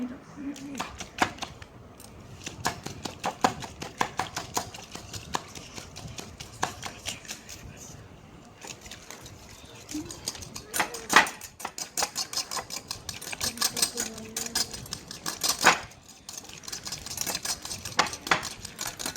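Homemade sanitizer with aloe vera gel being mixed in a container, giving a rapid run of small clicking, tapping and stirring knocks that comes and goes over about twenty seconds, close and fairly quiet.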